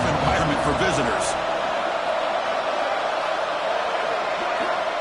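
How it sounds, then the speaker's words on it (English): A stadium crowd at a football game roars in a steady, dense wash. The noise runs throughout beneath a commentator's continuous talk. "Listen to the crowd energy here in the early going."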